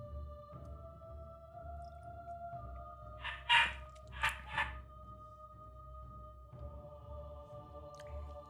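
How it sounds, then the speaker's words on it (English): A dog barks indoors, two or three short, fairly faint yelps in the middle under a steady background hum and faint tones. "Sorry about the dog, guys."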